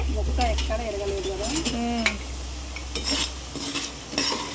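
Potatoes fry in a pan on low flame with a soft sizzle under louder stirring and the clatter of a metal utensil against the pan. A voice is heard in the background.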